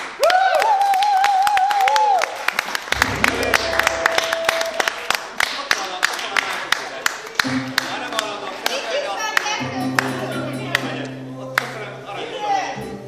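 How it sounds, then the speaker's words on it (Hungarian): Wedding guests clap for the parents and grandparents of the couple, scattered sharp claps over lively music, with a master of ceremonies' voice heard at the start. "én most a következő tapsot a kedves szülőknek és nagyszülőknek kérem"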